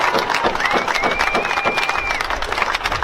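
Rally crowd at a solidarity protest clapping and cheering in a loose, continuous wash of claps and shouts, fairly close and loud, with a voice rising over it.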